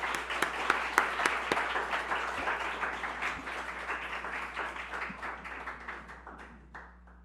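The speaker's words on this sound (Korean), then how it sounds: "우리 선교사님 박수로 환영하도록 하겠습니다." A church congregation claps to welcome a visiting missionary at a Sunday service, a moderate steady applause with a few sharp individual claps, gradually tapering off over about seven seconds.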